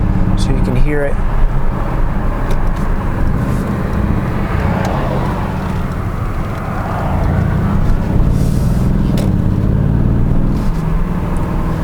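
The V8 engine of a 2018 Mercedes-Benz GLC63 AMG SUV drones steadily while driving with exhaust flaps open, loud and close, a low exhaust rumble rising and settling as it cruises.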